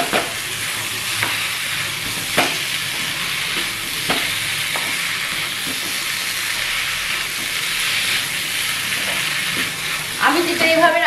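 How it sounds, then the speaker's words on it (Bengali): Fish heads and spices fry in a pan while being stirred, a continuous sizzle broken by repeated scraping strokes of the spoon at irregular intervals, close and fairly loud with no talking. "মাছের মাথা টাকাগুলো একসাথে দিয়ে একটুখানি নাড়াচাড়া করতে হবে।"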